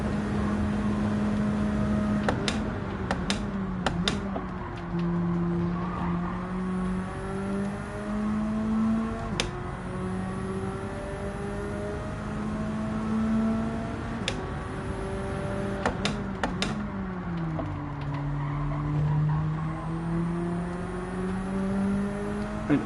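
A Gran Turismo 7 race car engine revs and shifts through rising and falling gear pitches, steady and close, with occasional sharp clicks or bumps and no voices.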